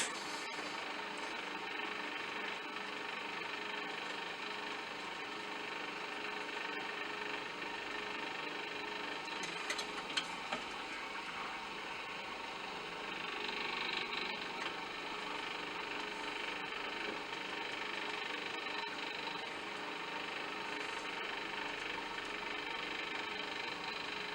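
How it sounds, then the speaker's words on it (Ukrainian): Rockwell hardness tester running while checking engine valves, giving a steady mechanical hum with a high whine and occasional faint clicks, continuous and moderately loud with no talking. "Включаємо роквел."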